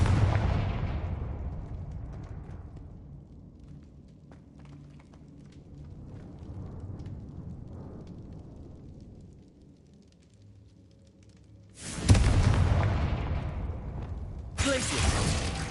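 A Confringo fire spell bursts in Hogwarts Legacy with a loud explosive blast that decays into rumbling debris, followed later by two more sharp, harsh bursts near the end.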